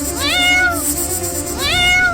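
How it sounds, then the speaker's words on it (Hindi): A cat gives two clear, drawn-out meows close by, each rising and then falling, with a short pause between them. "ओ बिल्ली चुप, बिल्कुल चुप"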